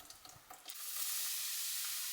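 Mushrooms and tofu hit a hot pan with a stir, then settle into a steady, close sizzle of frying that continues to the end with no talk.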